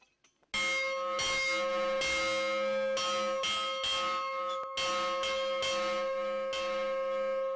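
A church bell rings in a small school village downstream of Camopi in French Guiana, loud, close and repeated in a steady rhythm of sustained metallic strikes with long ringing overtones, no voices.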